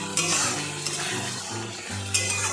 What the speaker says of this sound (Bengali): এবার মশলাটি ভাজা ভাজা হয়ে এসছে।